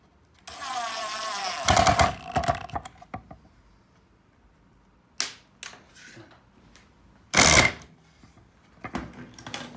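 A power driver sinks 3/4-inch screws into pre-drilled holes in thin plywood on a bat house, giving a long whirring burst first, then two shorter, sharper bursts with quiet gaps between.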